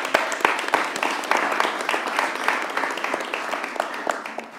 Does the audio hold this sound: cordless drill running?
no